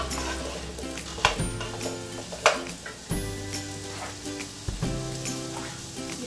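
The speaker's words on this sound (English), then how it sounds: "So we're just going to saute our carrots and potatoes." Carrots and potatoes sautéing in a pan, a steady close sizzle and hiss of frying with occasional louder scrapes and clinks of stirring.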